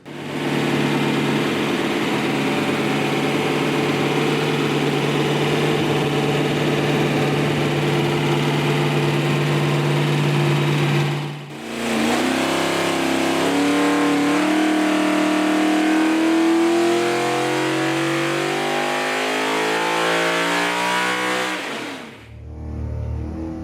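Genuine Chevy small-block DZ 302 V8 running loud and close, first a steady high idle, then after a brief cut a series of sharp revs climbing toward 8,000 RPM, with a short drop before a final burst.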